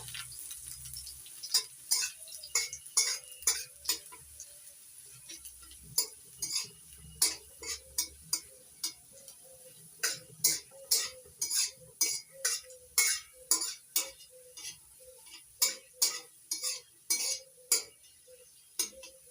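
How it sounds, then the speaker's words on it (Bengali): Chopped garlic frying in a pan with black cumin seeds, heard mostly as a steady run of close metal-on-pan clinks and taps from stirring, with only a faint sizzle underneath. "দিয়ে দিচ্ছি কুচিয়ে নেয়া রসুন এটা একটু লাল লাল করে ভেজে নেবো"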